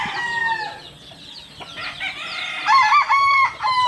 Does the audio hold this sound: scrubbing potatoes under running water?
no